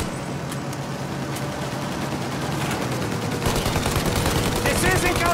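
Sustained gunfire in the Mafia Definitive Edition game during an attack on an aircraft's engines: dense, continuous bursts of shots over a roaring backdrop, growing louder and busier toward the end, with faint voices mixed in.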